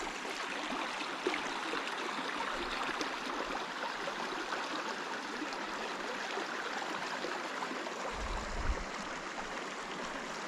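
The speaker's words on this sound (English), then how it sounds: "you can see the waterfall at the far side." Davidson's Linn waterfall roars as a steady, dense rush of falling water heard across a glen, constant and unbroken with no voices.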